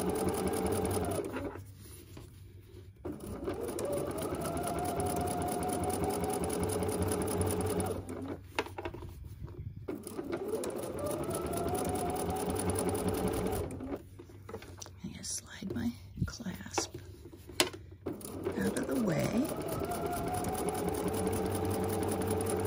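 A sewing machine stitches vinyl in several bursts of fast, even whirring, with a short backstitch among them. Quiet pauses fall between the runs, and a person speaks softly nearby.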